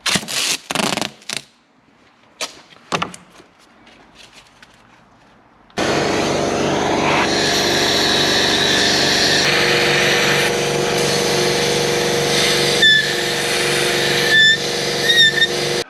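Walnut shell blasting cleans carbon from the intake valves of a VW Mk5 GTI TFSI engine: a few short clicks and bursts, then a loud sustained hiss of compressed air and media that continues steadily to the end.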